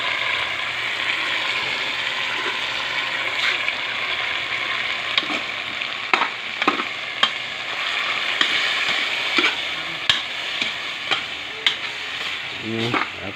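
Boiled taro sautéing in a pan sizzles steadily, with a spoon or spatula scraping and clicking against the pan at irregular moments, louder toward the end.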